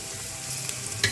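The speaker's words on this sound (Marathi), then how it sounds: "हेका मातशें न्हू अशें फ्राय करप पळया गायज आमचो न्हू कांदो बरो शिजलेलो आसा" Onions fry in a pan for fried rice, giving a steady close sizzle with light stirring scrapes and a brief clink near the end.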